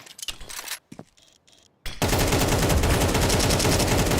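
Sustained automatic AK fire in a Counter-Strike match, a dense loud burst of rapid shots filling the second half after a few sparse, quieter shots and gaps.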